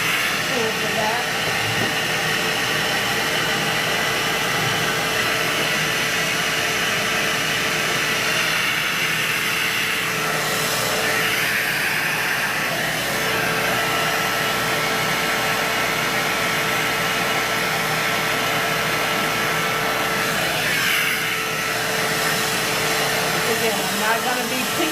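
A hair dryer blows on hair before braiding, making a loud, continuous, airy roar that holds steady throughout with small shifts in tone as it moves.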